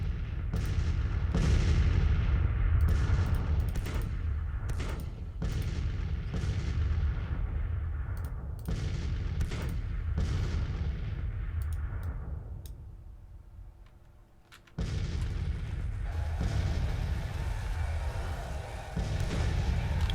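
Civil War artillery pounding away in Grand Tactician: repeated heavy cannon booms, some near and some distant, rolling over one another for a long stretch, briefly easing off before another loud salvo.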